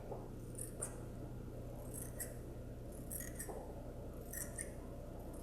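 Scissors trim tulle fabric in a few faint, crisp snips spaced a second or so apart, close by against a quiet room hum.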